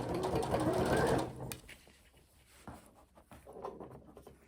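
A sewing machine stitching advent calendar fabric, a fast close whirring run for about a second that then stops, followed by quiet handling noises and faint bumps.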